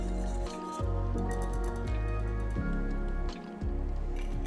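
A spoon stirs vegan masala chai in a pot on the stove, making soft rhythmic swishes and scrapes over a steady low hum.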